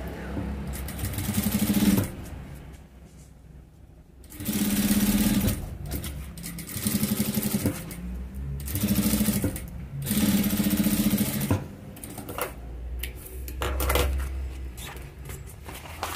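Sewing machine stitching along a seam in a quilted fabric piece, several steady whirring runs of a few seconds each separated by short pauses, close and loud.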